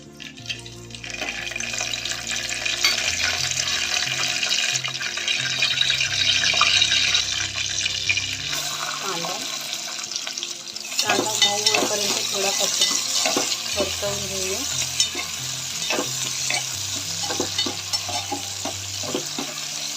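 Whole spices sizzle in hot oil in a pan at the start of a pea rice (vatana bhat), with a steady hiss, scattered stirring clinks and scrapes, and a low steady hum underneath throughout.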